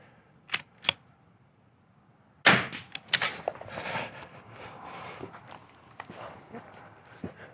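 Rimfire rifle shots at an NRL22 match: a couple of sharp cracks, a pause, then a quick cluster of louder shots with scattered follow-up pops over faint background chatter.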